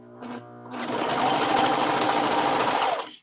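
A serger sewing machine runs steadily while stitching through thick hoodie fabric, a loud continuous whirring hum that starts after a brief lead-in and stops abruptly near the end.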